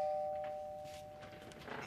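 A doorbell chimes indoors with a single sustained ding-dong tone that rings out and slowly fades, fairly faint, with light room noise under it.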